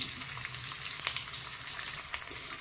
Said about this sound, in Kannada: ನೋಡಿ, ಟೊಮೆಟೊ ಇಷ್ಟು ಎಣ್ಣೆಯಲ್ಲಿ ಫ್ರೈ ಆಯಿತು 2 ರಿಂದ 3 ನಿಮಿಷ.